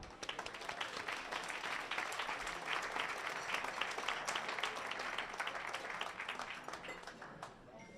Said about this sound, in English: Let's give a round of applause for Deena.